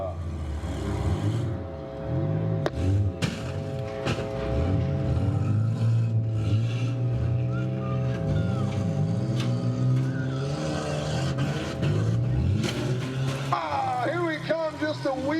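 Minivans race around a demolition derby track at a Western Michigan event in Ludington, their engines droning and revving with tires squealing, while an announcer's voice runs over the noise nearly the whole way.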